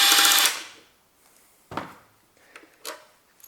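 Bolts being removed from the headlight area of a BMW 3 Series E90 during engine replacement work: a loud ratcheting burst at the start, then a sharp metallic clunk and a few lighter clicks and taps, close by with no talk.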